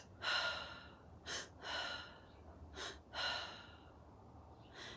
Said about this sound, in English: breathing quickly and deeply into the area of your heart, inhaling through your mouth and exhaling through your mouth